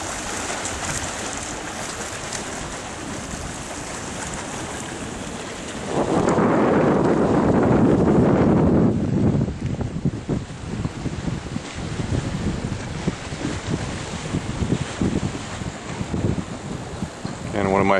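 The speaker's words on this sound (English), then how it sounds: "Nice breeze." Ocean breeze on a mild day of about 70 degrees rushes steadily across the microphone, swelling into a louder gust for a few seconds before settling back to a continuous blustery hiss.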